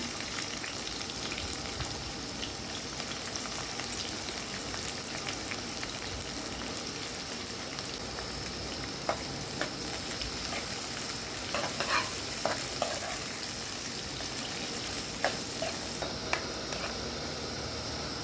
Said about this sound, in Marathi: तेल घालती आहे, जिरं, आणि आता हा भरपूर असा कांदा